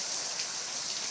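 Heavy rain falling steadily in gusty wind, a dense continuous hiss of drops at moderate distance, brief and unbroken with no voices.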